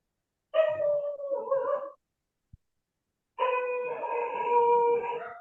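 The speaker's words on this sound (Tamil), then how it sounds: "பௌர்ணமி நிலை பெறும்போது நாய்கள் குலைத்து கொண்டிருக்கும்" Dogs howling in two long drawn-out bursts, nearby and fairly loud, with a short pause and a faint click between them; no one speaks.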